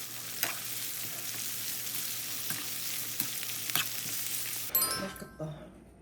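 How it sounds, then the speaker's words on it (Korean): Leftover mala xiang guo stir-fried with beef in a pan, a steady close sizzle with scattered clinks and scrapes, changing near the end to clattering handling sounds as the frying drops away. "여기 남은 마라샹궈와 소고기를 같이 볶아요"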